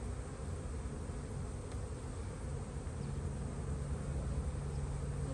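Honey bees in a spring hive buzz in a steady, dense drone, close and continuous, with no talking over the hum.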